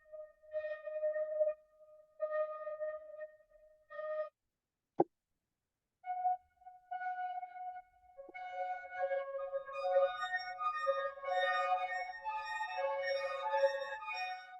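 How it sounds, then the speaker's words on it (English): A long vibrato flute sample runs through Serum 2 spectral synthesis, giving a vocoded, robotic tone: sustained pitched notes in short phrases, a sharp click in a brief gap, then a denser, brighter run of layered tones. "You kind of hear it's sort of like a vocoder effect happening"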